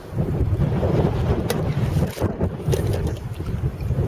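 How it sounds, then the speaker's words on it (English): Wind gusts across a lakeside fishing bank, a loud, constant buffeting rumble on the microphone that continues without a break. "Wind keeps kicking up."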